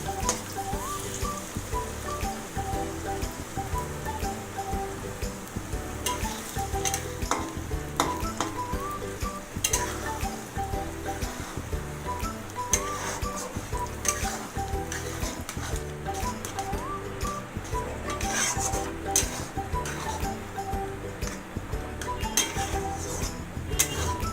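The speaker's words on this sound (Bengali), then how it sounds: "ডিমটা ঠিক মতো নাড়াচাড়া করে নিতে হবে, নাহলে তলাটা কিন্তু লেগে যাবে" Six beaten eggs fry with browned onions in a pan, a continuous crackling sizzle under repeated stirring, with metal utensil scrapes and clinks against the pan throughout and no voices.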